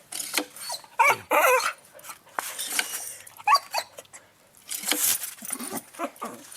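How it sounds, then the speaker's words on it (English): Dog chasing a toy mouse, with excited yips, whimpers and scrabbling paws in a lively, uneven run of sounds, close by and loud, with no talking. "it's more of a dog toy for Sophie than it is for fat Seamus"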